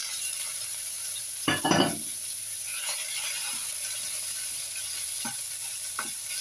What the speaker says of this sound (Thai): ใส่หมูสามชั้นเข้าไปจ้ะ ผัดก่อนนะคะ